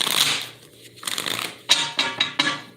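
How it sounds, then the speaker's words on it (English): Tarot cards being shuffled in an airport, a soft papery riffle followed by several sharp, close slapping bursts of cards in quick succession, with no voices over them. "2 more shuffles and we'll start."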